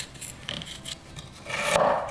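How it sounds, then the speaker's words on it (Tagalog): Fresh ginger being peeled for beef pares, with soft scraping and rasping strokes close by and a louder, longer scrape near the end. "binabalatan ko lang ito."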